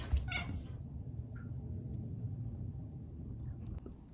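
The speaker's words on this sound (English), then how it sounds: "My cat's looking at me." A cat gives a short meow near the start, then a fainter second call, over a steady low rumble of background noise.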